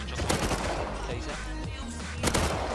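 Rapid bursts of gunfire from a PvP survival game set in Rust, dense and continuous throughout, with sharp louder volleys near the start and again toward the end.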